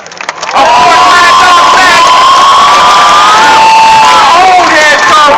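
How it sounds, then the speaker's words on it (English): A large crowd at the Texas vs. OU Torchlight pep rally cheers and shouts loudly and steadily, with high voices and whoops rising over a sustained roar that swells in after a brief quieter start. "One more round of applause for the seniors of Torchlight"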